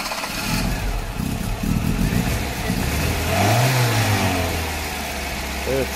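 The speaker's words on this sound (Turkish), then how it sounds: "Aracı çalıştıralım." A 1992 Tofaş Şahin running on petrol cranks into life, settling to a close, loud idle and then revving up and back down, with someone talking over the engine.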